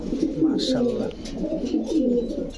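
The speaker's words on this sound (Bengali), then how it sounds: "দর্শক দেখেন বিউটি কবুতর কত বড়" A large Beauty breed pigeon on a rooftop coos in several low, rolling phrases close to the listener.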